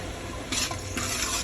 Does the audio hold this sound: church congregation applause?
no